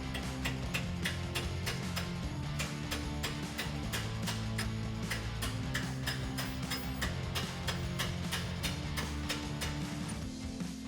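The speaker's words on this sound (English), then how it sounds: "it also helps to use a chisel to tap it through" Rapid metallic tapping of a hammer on a chisel driving a strut bolt out of a Toyota Tundra front suspension, sharp regular clicks in quick succession over a low background hum, steady and moderately close.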